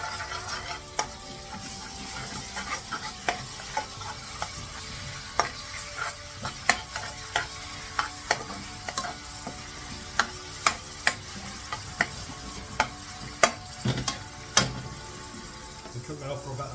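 Ginger garlic paste, a tablespoon, stirred and frying in a pan for a chilli lamb curry, with a steady sizzle under repeated sharp spoon clicks and scrapes against the pan at a close, moderate level.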